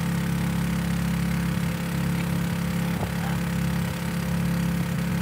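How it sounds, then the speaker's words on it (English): Steady drone of a boat's electric motor running on the Intracoastal Waterway, a continuous low hum with constant broadband wash, close and unchanging, with no talk. "Indirectly, that is the sound of the electric motor."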